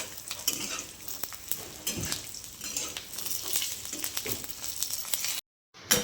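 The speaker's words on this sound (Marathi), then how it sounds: "शेंगदाणे, मिरची आणि लसूण छानपैकी फ्राय करून घेतलेला आहे" Peanuts, green chilies and garlic frying in a little oil, close sizzling under repeated scraping stirs and metal clinks from the pan, ending in a brief silence.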